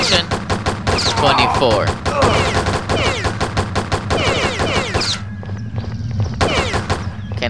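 Rapid gunfire in the Postal video game, dense bursts of close, loud shots in quick succession, pausing briefly before resuming, with someone speaking briefly.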